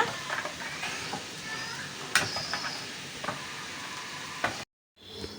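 A mango and buttermilk curry being stirred in a pan, soft scraping and clinking strokes with a sharp tap or two over a quiet background hiss, before a short silence.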